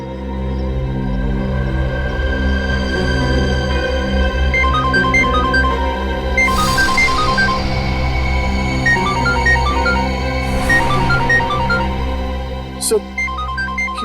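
A phone ringtone plays a repeating melodic pattern over a steady tonal backdrop, loud and continuous.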